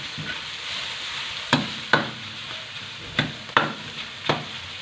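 Pork browning in its own rendered fat in a pan for a mung bean dish, a steady sizzle with several sharp spatter pops and stirring scrapes at irregular intervals, close and fairly loud, with no talk.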